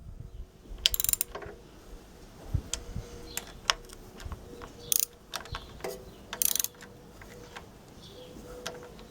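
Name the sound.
tightening bolts on a Lister LD1 diesel engine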